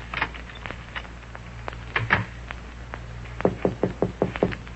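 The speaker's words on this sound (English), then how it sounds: "Now go out and knock." Knocking on a door, heard as a few scattered taps early on, then a clear run of six firm, evenly spaced knocks near the end, close and fairly loud.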